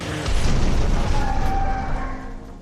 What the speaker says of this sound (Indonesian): Tapi beberapa saat kemudian si Jarek justru tewas terkena serangan bom.